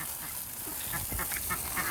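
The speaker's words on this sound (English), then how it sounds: "That's a quack. That's a female duck." A female duck on a farm quacks in a short run of several nasal calls close to the listener, following a quieter stretch with some faint background noise.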